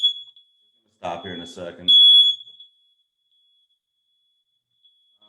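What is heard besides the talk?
smoke alarm beeping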